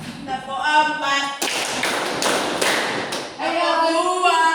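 A group of children claps a rhythm pattern in a classroom, a dense burst of hand claps lasting a couple of seconds between stretches of children's sing-song voices.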